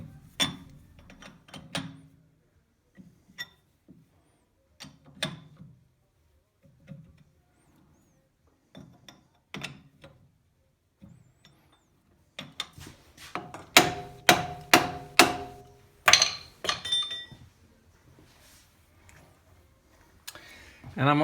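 Jaws of a lathe chuck being tightened on 20 mm raw stock: sparse, close metallic ticks and clicks, growing into a denser cluster of ratcheting clanks and rings toward the end, with someone talking between them.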